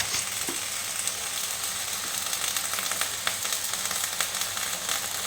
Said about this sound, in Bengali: গাঁধাল পাতাটা দিয়ে একটু ভালোভাবে ভাজতে হবে